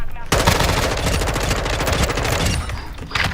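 Rapid automatic gunfire from Warzone 2 video game combat, a dense continuous burst of loud, close shots that runs almost the whole time, briefly pausing near the end before another burst.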